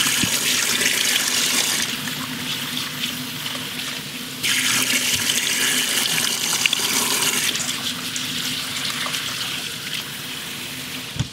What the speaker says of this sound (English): we'll wash the rice and add it to the lentils